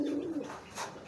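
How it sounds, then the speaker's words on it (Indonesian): A racing pigeon gives a short, soft coo, close by and brief, with a faint rustle at the end. "Nah ini merpati jenis merpati balap teman-teman."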